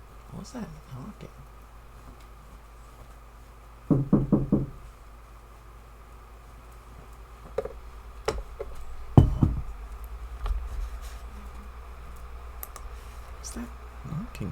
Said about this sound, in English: Where's that knocking coming from?